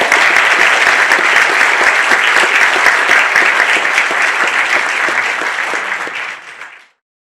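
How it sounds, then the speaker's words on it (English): A conference audience at an economics conference in Dubrovnik applauds in dense, steady clapping close by, holding loud for several seconds and then fading quickly to silence. "I would like to ask you for a round of applause"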